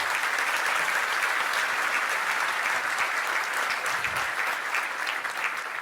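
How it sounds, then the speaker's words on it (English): Sustained applause from an audience at a law enforcement awards ceremony honoring the nominees, a dense, steady clatter of many clapping hands that holds loud and even throughout with no talking over it. "A round of applause for all the nominees."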